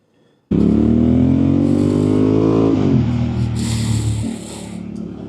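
A Honda Hornet 1000 or Kawasaki Z900 motorcycle engine bursts in loud and close, revving up through a rising whine, dropping back briefly, then climbing again before settling to a steady drone.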